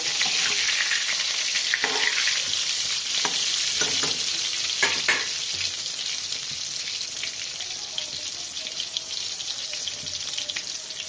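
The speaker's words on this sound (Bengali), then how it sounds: "তো বেগুনটা আমি এখন উল্টে পাল্টে ভেজে নেব।" Eggplant slices for Bengali begun bhaja fry steadily in hot oil in a pan, a continuous close sizzle with scattered pops and crackles as the pieces are turned, and no voices over it.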